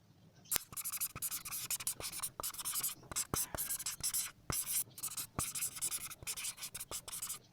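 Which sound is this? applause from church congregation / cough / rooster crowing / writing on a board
writing on a board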